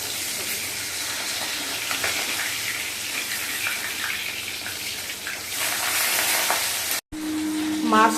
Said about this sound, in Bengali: ভাজার সময় একটু ফোটে